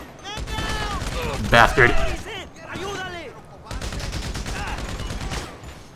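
Gunfire in the video game GTA Online, bursts of rapid shots rattling in clusters with pauses between, someone talking over the first part.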